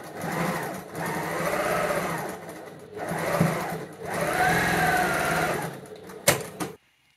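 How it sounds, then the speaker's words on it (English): A sewing machine runs in long continuous bursts while stitching the side seams of a lined jacket body, pausing briefly between passes and stopping with a few sharp clicks near the end. "now I'm stitching the sides as well"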